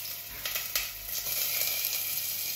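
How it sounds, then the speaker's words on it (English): Sliced onions sizzling in hot oil in a pan over medium flame, a steady close hiss with a few brief crackles and clinks near the start, no talk. "We add oil to it. And now we're going to add onions."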